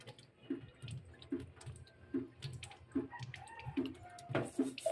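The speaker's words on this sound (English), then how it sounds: "We'll wait for the water to come out. There, guys, it's getting out already." Water trickles out of a water purifier after a filter change, a near, quiet, irregular dripping and gurgling with small splashes repeating roughly every second.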